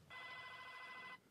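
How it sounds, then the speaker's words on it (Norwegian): A telephone bell rings continuously for about a second in a radio studio, a steady bright electronic trill that starts and stops abruptly, heard alone without talk. "Hvor er den ringelyden kommer fra, egentlig?"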